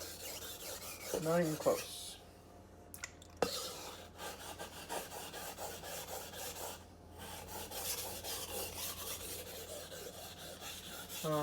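A dull steel knife blade is rubbed against a sharpening stone in repeated rasping strokes, close and fairly quiet, with short pauses between passes and a brief spoken remark.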